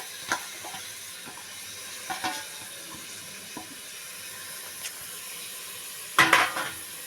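Chopped fenugreek leaves are stirred into a potato curry in a pan, with a steady soft sizzle under light scraping. A louder clatter of utensil on pan comes near the end.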